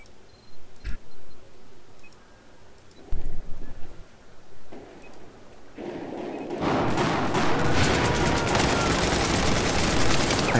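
Gunfire crackles in Battlefield 4 on the Operation Metro map: a few isolated shots early on, then sustained dense automatic fire that swells loud and continuous toward the end.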